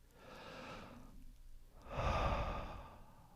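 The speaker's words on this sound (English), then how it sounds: "we close our eyes, we take a deep breath" A person takes one deep breath, a slow audible inhale followed by a longer, louder exhale like a sigh, close and quiet with no talk.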